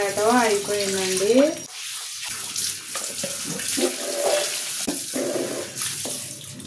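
A kitchen sink is rinsed under a running tap: a steady, close gush of water with light splashing follows a short burst of speech at the start.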